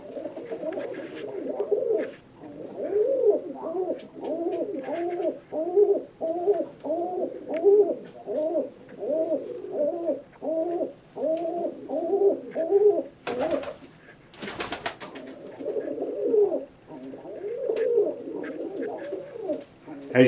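A yellow short-beak Budapest pigeon hen coos in a repeated run of soft, rolling calls, heard close in a quiet setting, with a couple of brief handling or rustling noises in the middle.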